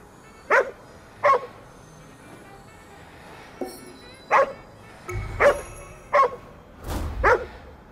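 Dog barking in the video game Ghostwire: Tokyo, with a series of sharp, separate barks repeated irregularly about once a second, close and loud over a low background rumble.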